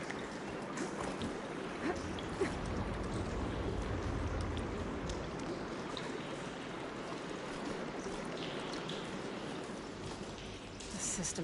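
Steady rushing water courses through pipes in Horizon Forbidden West, a continuous broadband wash with low rumble, close and fairly loud, unbroken throughout.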